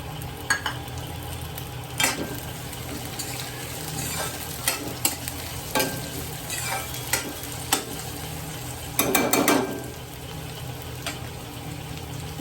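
Two bowls of cabbage are stir-fried in a hot pan with chilli and spring onion for schezwan rice, giving a continuous sizzle broken by scraping stirs and a louder toss near the end.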